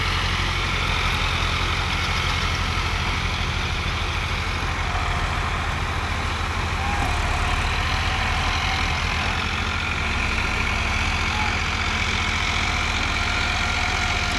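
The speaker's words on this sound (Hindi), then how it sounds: "एक ही खेत में दो ट्रैक्टर चल रहे हैं अपने" Two Eicher tractors, a 551 and a 557 4WD, running side by side in a farm field, their diesel engines producing a steady, loud, continuous low rumble with no speech over it.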